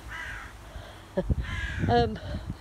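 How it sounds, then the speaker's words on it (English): Outdoors on an autumn walk, a crow caws a few times, moderately distant, with a short burst of louder calls partway through and some background noise around it. "Yeah, the crow's calling."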